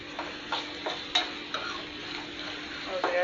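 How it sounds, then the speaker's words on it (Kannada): Two large onions frying in a pan, a soft steady sizzle broken by several sharp stirring clicks of a utensil against the pan. "ನೋಡ್ರಿ, ಎರಡು ದೊಡ್ಡ ಉಳ್ಳಾಗಡ್ಡಿ ಇದ್ದವು. ಇವು ಚಲೋ ಹೊತ್ನಾಗ ಫ್ರೈ ಆಗಲಿ."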